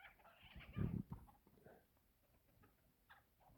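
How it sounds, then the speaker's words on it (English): Roosters fighting nearby: a sudden loud burst of scuffling, wing flapping and clucking, then quieter scratching and occasional squawks. "got the roosters fighting back there behind me."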